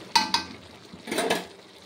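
Mustard prawns stirred with coriander leaves in a pan: two sharp spoon-on-pan clinks, then a brief soft scraping stir, close and quiet.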